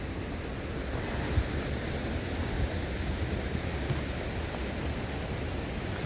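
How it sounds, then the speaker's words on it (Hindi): Glacier-fed waterfall stream running beside a mountain trek trail in the Valley of Flowers, a steady broad rushing wash of water that holds constant and fairly loud throughout, with no voices. "ये झरना हमारे पूरे साथ चलता आ रहा है, जो ग्लेशियर्स का पानी बहता हुआ आ रहा है।"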